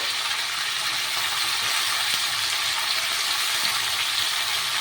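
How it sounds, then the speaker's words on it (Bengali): Spices and a fish curry base lightly frying in a pan, a steady broadband sizzle that holds evenly throughout, close and moderately loud with no talk. "এটাকে একটু হালকা ভেজে নিয়ে, একটু হালকা ভেজে নেব।"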